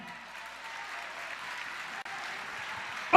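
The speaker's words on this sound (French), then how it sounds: "On acclame Jésus." A church congregation applauding Jesus at a French-language sermon, with steady sustained clapping throughout and a louder burst of claps at the very end.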